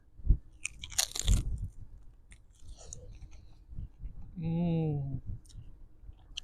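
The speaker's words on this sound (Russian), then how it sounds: "Берем нашу косточку и пробуем." Someone bites into a grilled lamb rack bone, with crunchy bites and clicking chews up close amid a short hum-like voiced sound and quiet mouth noises.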